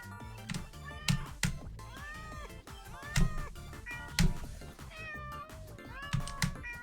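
Meowing cat bumpers in a video game pinball level fire off repeatedly, a string of short synthetic meows and chirps at irregular intervals, with thumps and game effects between them.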